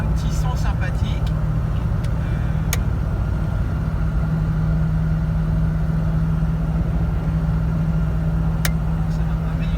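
Range Rover Classic with a 3.5-litre fuel-injected V8 driving, a steady low engine drone from inside the cabin with a faint whine, accompanied by a few light clicks.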